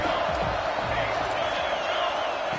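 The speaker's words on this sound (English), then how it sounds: "Crowd trying to help out here on 4th down." Stadium crowd in a college football video game roars steadily on a 4th-down defensive stand in a USC rivalry matchup, a dense, continuous wash of noise with a commentator talking over it.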